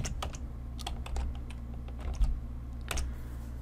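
Quick keystrokes on a computer keyboard, a handful of close, crisp taps in a short burst over a low hum, with no talking.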